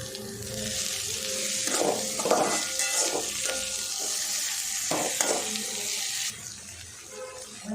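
Cabbage and capsicum stir-fry with salt in a pan, heard as a constant close, loud sizzle with scraping, stirring bursts in the middle, and the hiss drops slightly near the end.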